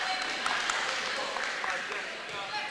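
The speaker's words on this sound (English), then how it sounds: "Nice applause for" Broad crowd applause fills a girls high school basketball gym during a Central Kitsap at Bainbridge game, a steady wash of clapping with a commentator talking over it.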